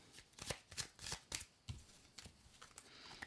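Kuan Yin oracle cards are shuffled in a quick series of crisp riffling bursts, then softer slides and taps as cards are drawn, close and quiet with no talking.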